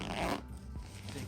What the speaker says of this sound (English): You don't want to be breaking the zipper either.